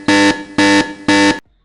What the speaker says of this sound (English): you get the alarm bell